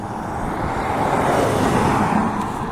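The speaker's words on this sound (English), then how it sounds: "I can hear a plane, funny enough, I just can't see it." An unseen airplane flies overhead, giving a continuous, fairly faint broadband roar that stays steady through the short clip, with no talking.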